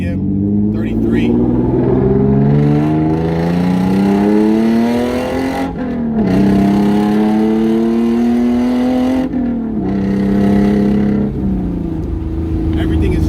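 A Hyundai Genesis Coupe fitted with a differential kit holds a steady, droning engine note on a test drive, with rising harmonics and brief lifts in the revs. Someone talks over it throughout.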